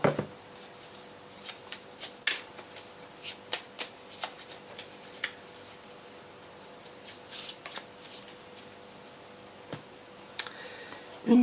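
Oracle cards of a small mirror-hours deck being shuffled and drawn by hand, close and quiet, with bursts of crisp riffling snaps and light clicks scattered across a hushed room, and a final flurry at the end.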